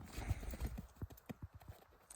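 Hooves of two working mares and a foal clip-clop in a quick, uneven rhythm on hard ground, nearby and moderately loud, slowing into separate distinct knocks.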